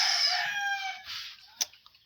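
A rooster crows loudly and close, the call trailing off, followed by a few short clucks from nearby chickens.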